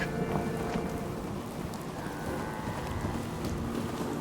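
Night rain and thunder in Fallout 4: steady, dense rainfall hiss with low rumbling thunder underneath, continuous and enveloping, no speech.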